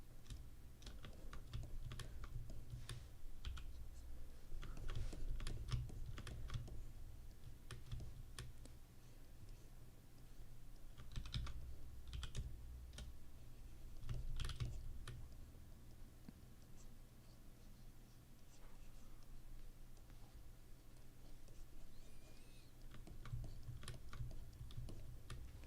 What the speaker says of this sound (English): if you use the keyboard, it's gonna have some like keyboard noise